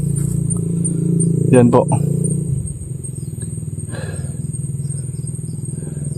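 A motorcycle passes on a road below a hilltop, its engine swelling briefly and then fading into a steady hum while someone speaks over it.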